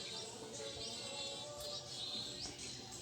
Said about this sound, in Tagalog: Huni lang ang mga ibon yung maririnig mo dito, mga kababayan.